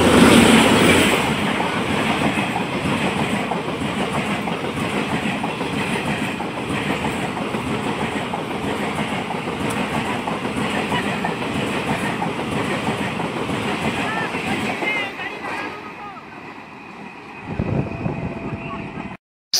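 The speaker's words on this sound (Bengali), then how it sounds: "ঝড়ের গতি নিয়ে মাটি কাঁপাতে কাঁপাতে চলে আসছে 13-118 ধন্যধন্য এক্সপ্রেস।" The 13-118 Dhanadhanya Express races past at speed, a loud sustained roar and clickety-clack of wagons over the rails that drops off abruptly near the end, leaving a brief quieter tail with a final burst.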